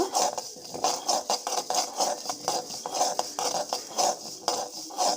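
Cumin and coriander seeds roasting in a pan with a spoon stirring them, giving steady scraping and rattling strokes in an irregular rhythm, close and fairly loud, with a hiss underneath.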